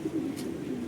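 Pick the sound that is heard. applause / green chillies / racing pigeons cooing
racing pigeons cooing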